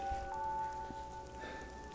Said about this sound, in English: We came out all the way in the rain for this.